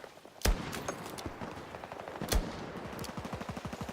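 Rapid gunfire in Battlefield 6, with two heavy booming shots followed by a fast rattling burst of automatic fire, loud and close with no talking.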